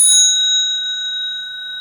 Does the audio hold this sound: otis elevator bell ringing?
yes